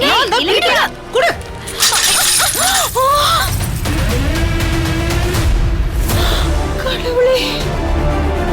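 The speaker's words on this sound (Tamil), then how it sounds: "போட்டோ உடைஞ்சு போச்சே." Glass photo frame shattering during a dramatic scene in a Tamil TV serial, a loud crash of breaking glass amid raised, overlapping voices and a swelling background score.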